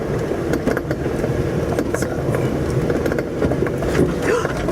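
A Jeep rolls over a bumpy dirt road near the Poison Spider trail entrance at Moab, its engine and tyres giving a steady, close rumble with rattles and jolts throughout.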